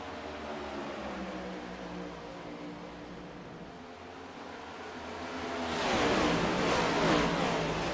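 Race cars in a sim racing video game at Atlanta, a steady engine drone from the field that swells louder and brighter toward the end as the pack accelerates.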